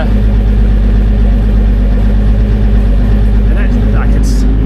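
A two-stroke engine runs in an Eleanor car, a loud, close, steady idle drone that stays even throughout.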